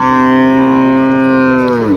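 A single long, loud dairy cow moo at a livestock market, close and sustained for about two seconds, with a slight fall in pitch at the end.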